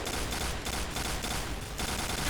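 A Famas G2 rifle fires in the video game Point Blank, a dense continuous burst of rapid gunfire that stays loud and steady with short gaps between strings of shots.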